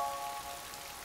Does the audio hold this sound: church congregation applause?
no